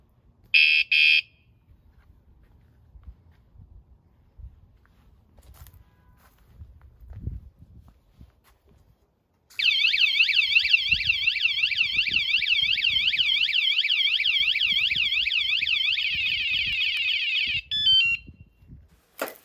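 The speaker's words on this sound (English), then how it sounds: "Now it's activated, and any touch to it will set it off." A bike lock alarm, remote-controlled and armed so any touch sets it off, gives a short piercing burst, goes quiet amid faint handling noise, then wails in a loud, continuous warbling siren for about eight seconds.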